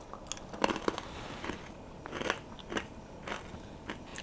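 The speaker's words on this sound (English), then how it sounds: "Let me see if you can hear the crisp. Yep, it's got a nice crunch to it," Crunchy gluten-free chickpea flour crackers being bitten and chewed close up, a series of sharp crisp cracks and crackles spaced irregularly over quiet background, with no speech.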